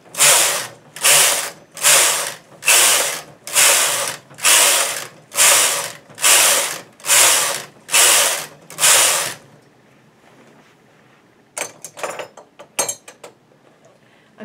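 Knitting machine carriage pushed back and forth across the needle bed to knit hem rows for an afghan, about ten even, rhythmic rasping passes, loud and close, followed by quieter clicks and clatter of the machine.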